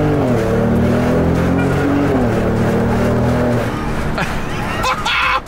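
A Ford Raptor pickup truck engine runs loud and steady with a deep, rising and falling drone, close by, the engine note dropping away near the end.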